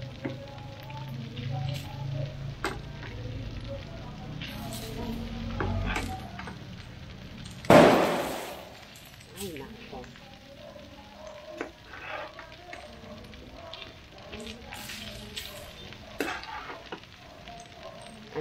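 Cooked rice from the day before tipped into a hot pan with browned aromatics and fried, a steady sizzle with a loud burst as it drops in, then continued frying and occasional scraping.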